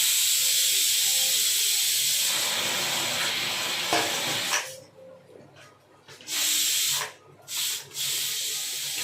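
Loud continuous hiss of steam rushing out of a pressure cooker whistle after cooking chicken curry, which then breaks into sputtering bursts that come and go, close by.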